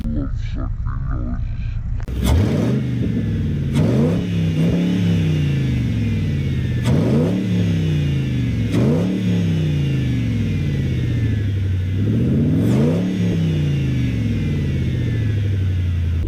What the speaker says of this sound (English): All right, so let's hear some sucking noises.